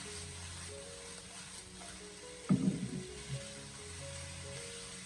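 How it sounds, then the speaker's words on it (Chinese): Cucumber stir-fried over high heat in a wok, a steady low sizzle running throughout with a brief louder burst of clattering and hissing midway as the pieces are tossed. "我们再把控干水分的黄瓜放进锅里面，然后再立刻的将火候调为大火，将它快速的进行翻炒"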